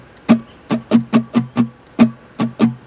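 A guitarist plays a rhythm pattern on a guitar with the strings muted, giving dull percussive chucks with no chords. Eight strokes fall in a steady uneven rhythm with short gaps, close and clear, with no talking.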